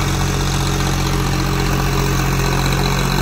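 A Swaraj 733 tractor engine runs at a steady idle, a loud, continuous low rumble that stays even throughout, with no voices.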